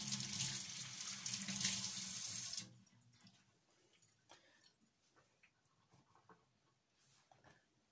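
Water runs from a tap in a steady splashing stream for a couple of seconds, then shuts off, leaving faint handling noises and a dog panting nearby.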